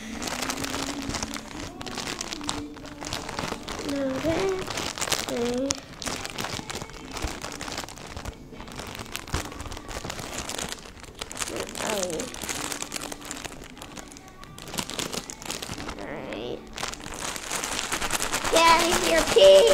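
A bag torn and crinkled open by hand, producing continuous rustling and crackling close by, with a person's voice speaking over it at several points.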